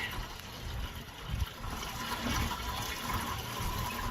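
Steady rushing and splashing of garden hose water flushing the engine block of a 1998 Lincoln Town Car, continuous and fairly loud throughout with no voices.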